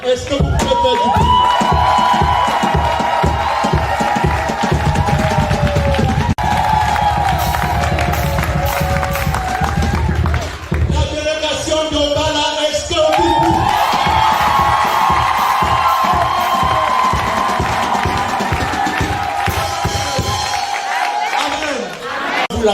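Crowd at an evening church gathering cheering and clapping for a visiting parish delegation, a loud continuous roar with rhythmic claps and music-like tones, sustained almost throughout.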